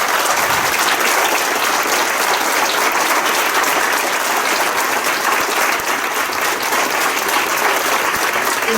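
Loud, dense applause from the audience at a 2018 ceremony marking seventy years since the abolition of the army, sustained evenly throughout without a break.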